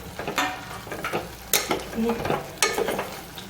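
Chopped moringa drumsticks are tipped into a pan of hot oil with green chillies and stirred, producing bursts of sizzling and sharp scraping, clattering spoon strokes in an uneven rhythm, close up and without speech.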